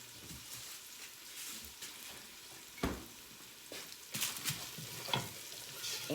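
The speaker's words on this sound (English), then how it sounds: "you're gonna brown your pork chop on both sides" A pork chop browning in a hot pan for Southern spaghetti sauce, a quiet steady sizzle with occasional louder pops and stirring scrapes.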